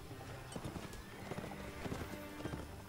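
Horse in Mount and Blade: Warband: brisk clip-clop of hooves in an irregular galloping rhythm with thuds of impact, a whinny mixed in, over a noisy battle background.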